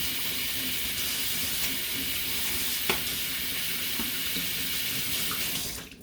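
Tap water runs steadily into a sink while a slippery kitchen knife is rinsed, a constant close hiss with a few faint clinks, tapering off as the flow stops at the end.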